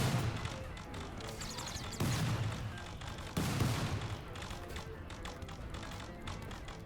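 Gunfire in the RimWorld video game, several bursts of shooting with sharp onsets around a steady noisy background, continuing through the whole stretch.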